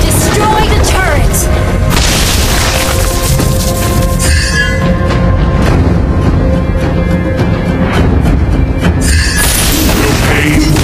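A turret is destroyed in the Mobile Legends: Bang Bang video game, with loud booming explosion and crashing effects layered over dense game sound and an announcer-style voice throughout.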